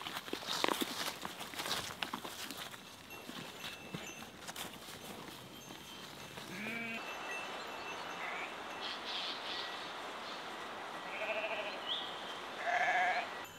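Sheep with red natural dye on their wool bleat and shuffle about, hooves stepping steadily on the ground amid a busy rustling flock, with a few louder bleats near the end.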